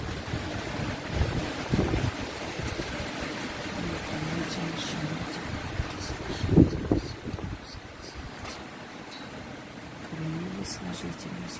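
Steady wind blowing and buffeting the microphone outdoors by the sea, a continuous rushing roar with gusts, heard under a person speaking.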